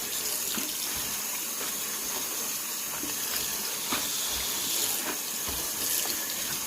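Tap water runs steadily into a kitchen sink while collard greens are rinsed and swished around, a continuous close splashing stream with occasional soft knocks of handling.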